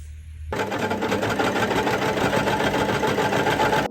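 A sewing machine stitching together dress fabric pieces, starting after a brief quiet moment and then running steadily with a fast, even mechanical whir close by.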